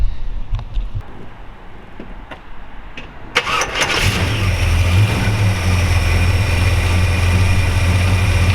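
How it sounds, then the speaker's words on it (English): A V8 in a restomodded 1957 Chevy 210 with short-tube headers and dual exhaust cranks with quiet clicks, then fires at about four seconds and settles into a loud, steady, rumbling idle with no talk. "We'll fire it up here for you in just a minute and let you hear it run."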